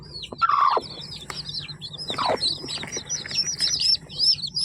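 Chicks chirp in high, rapid peeps near their hen, and a few louder sliding calls rise above them. The sound is near and fairly lively.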